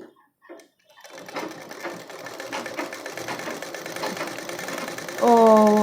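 A sewing machine stitches a blouse dori, running steadily and close by, its whirring rising to a louder, faster burst near the end, with a brief voice at the start.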